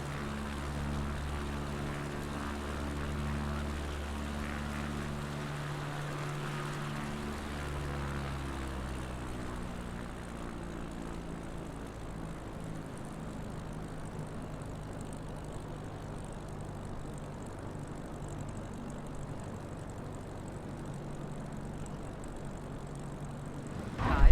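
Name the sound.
Grumman G-21A Goose propeller aircraft flying, from Microsoft Flight Simulator video game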